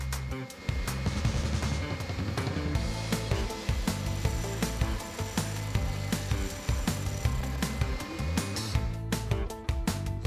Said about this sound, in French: passe un coup de bande abrasive, ceci afin d'obtenir un résultat parfaitement lisse